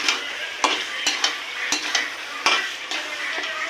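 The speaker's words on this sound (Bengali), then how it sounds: "একটু মশলাটা ভেজে নিই।" Whole garam masala and ground spices fry in a pan with a steady close sizzle, broken by repeated scraping strokes of a spatula stirring at an irregular rhythm.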